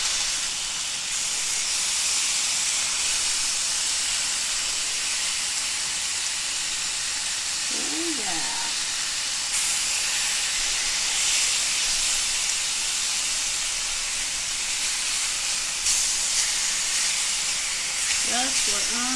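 Mountain Dew pork chops sizzle in a pan, a loud continuous hiss with brief clattering as the chops are flipped, and no talk over it.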